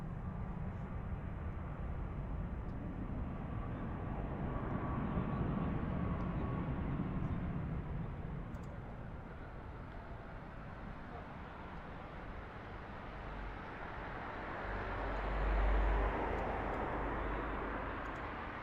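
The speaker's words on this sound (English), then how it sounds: "We'll see him in more detail now as he taxis off the runway." Airliner taxiing off the runway at Lisbon Airport: a distant, steady jet-engine roar and whoosh that rises and falls slightly over time, faint and continuous.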